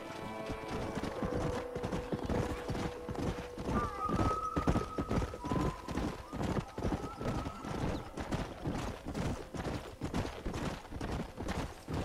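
Horse hooves clip-clopping at a steady trotting rhythm in the Western video game Red Dead Redemption, close and continuous throughout, with game characters and a commentator talking over them.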